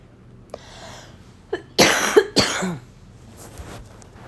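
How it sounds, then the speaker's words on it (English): Two harsh coughs close together, near and loud, with a few small breaths and mouth noises around them in an otherwise quiet room. "excuse my cough"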